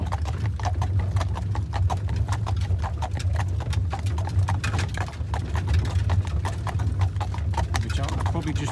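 Horses pull a carriage on a ride around Beamish Museum, hooves clip-clopping steadily at a walk up a gradient, near and continuous over a low rumble, while someone talks throughout.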